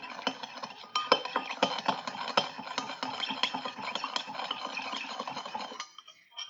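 A utensil mixes olive oil, salt and black pepper in a bowl, giving quiet, close, rhythmic clinks and scrapes that stop near the end.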